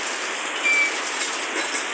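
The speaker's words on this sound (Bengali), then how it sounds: "এই রমজান মাসও রহমতের বৃষ্টি হচ্ছে" Steady rain falls in a continuous, even hiss with no pauses and no voices.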